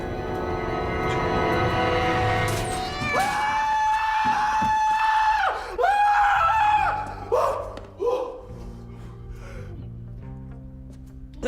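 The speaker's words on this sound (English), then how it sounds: "Him screaming when the cat jumps out of the locker." A man screams in fright as a cat jumps out of a locker in a comedic horror scene from Supernatural, a loud sustained wailing cry over a busy music-and-effects bed, with further shouts and thuds following.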